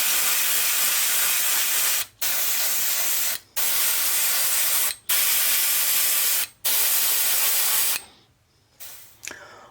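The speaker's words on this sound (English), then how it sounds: "So I'm going to put a coat or two of the polyacrylic." A spray can applies a polyacrylic coat to handmade frog lures: five close, loud, steady hissing bursts of about a second each, separated by short gaps, followed by a few quieter sputtering sprays.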